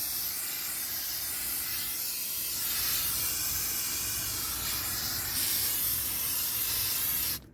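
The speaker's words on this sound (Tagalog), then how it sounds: "Ano pag-spray para sa kalawang yan." Rust-proofing spray applied to a car, a loud continuous aerosol hiss held for several seconds close up before cutting off abruptly at the end.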